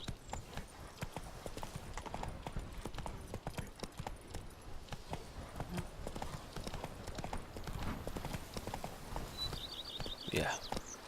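Horse hooves clip-clop at a steady gallop in The Witcher 3, a dense rhythmic pounding throughout with a brief whinny near the end, while someone talks over it.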